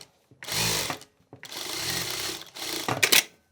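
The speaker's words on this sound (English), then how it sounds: "Now do a straight stitch at the bottom." Sewing machine running a straight stitch along the bottom hem of a hoodie's front pocket, heard in three close bursts of steady whirring separated by short pauses, the last ending with a brief clatter.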